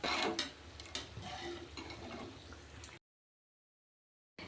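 A spoon stirring squeezed lemon juice into sugar syrup for badusha sweets, with faint scraping and a few light clinks against the vessel close by, then the sound cuts to silence.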